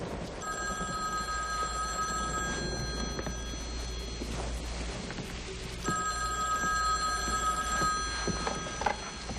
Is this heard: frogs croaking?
no